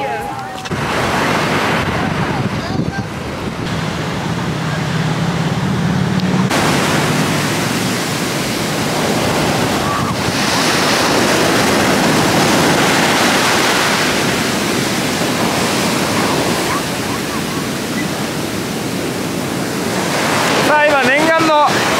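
Strong ocean surf at Sunset Beach on Oahu's North Shore, a loud continuous wash of breaking waves mixed with wind buffeting the microphone, running steadily throughout with a brief disturbance near the end.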